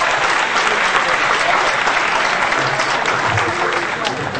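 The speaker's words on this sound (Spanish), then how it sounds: "Un aplauso para la señorita Miss 15." An audience at a show applauds a young woman receiving a certificate of thanks, dense steady clapping sustained throughout, loud and close, slowly easing toward the end.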